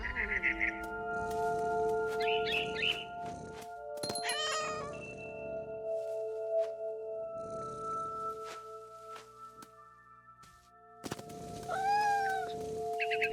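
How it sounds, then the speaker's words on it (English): Several cat meows in What Remains of Edith Finch, scattered across the scene with short gaps, rising and falling calls over tonal game music and quiet background sounds. "And suddenly, I was a cat."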